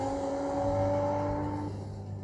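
A car engine revs with a steady, high tonal whine that drops away as the gear changes, then settles lower, close and fairly loud with no voices.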